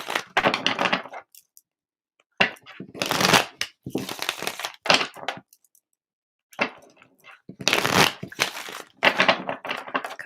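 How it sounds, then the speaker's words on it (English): Several bursts of tarot cards being shuffled close up, riffling in rapid crackly runs separated by short silent pauses. "A couple more clearance shuffles"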